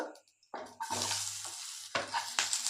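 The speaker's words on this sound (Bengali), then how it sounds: "এই তেলের মধ্যে দিয়ে দিচ্ছি কালো জিরে কালো জিরেটা একটু নেড়ে চেড়ে এর মধ্যে দিয়ে দেব কুচে রাখা পেঁয়াজগুলো" Black cumin and chopped onions hitting hot oil and frying in a pan, a quiet start followed by a burst of loud sizzling with stirring scrapes and short surges, close by and without talk.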